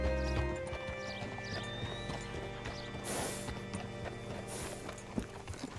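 Horse hooves clip-clop on the ground in Red Dead Redemption 2, a steady walking rhythm of close hoofbeats with faint harness jingles and a brief snort, against soft ambient noise.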